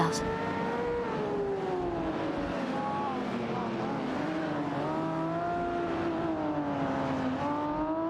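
A Ford Mustang Boss 302 and a Ferrari 250 LM racing in a video game, engines droning continuously with rising and falling pitch as they rev and shift, sustained and fairly loud throughout.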